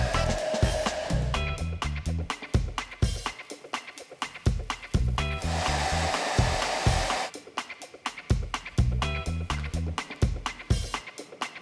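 A hair dryer blows in loud, steady bursts, switching on and off repeatedly, with choppy background music running throughout.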